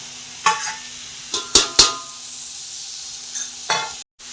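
Chicken with mint cooks in a black masala for a rustic chicken curry. A low sizzle runs underneath while a spoon scrapes the pan in several short, sharp strokes nearby.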